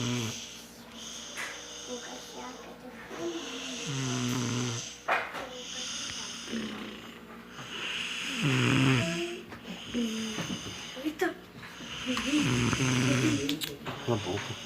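A man snores while asleep, drawing long rasping, wheezy breaths that rise and fall in a slow repeating rhythm, fairly close, with crickets faintly in the background and a voice talking over parts of it.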